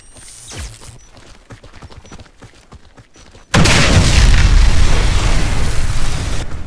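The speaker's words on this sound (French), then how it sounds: "La bombe a explosé." A bomb detonates in the video game Warface: after a few seconds of quieter clicks and scattered game noises, a sudden massive blast erupts and settles into a loud, sustained roaring rumble that fills the rest of the moment.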